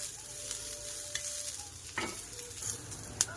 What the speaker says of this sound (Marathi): चांगले लाल रंगाचे होईपर्यंत भाजून घेऊया